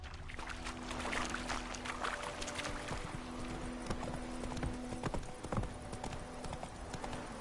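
Horse hooves beat at a quick gallop in the game Witcher 3. The clip-clop runs steady and fairly close over outdoor ambience and low hum, with no clear speech.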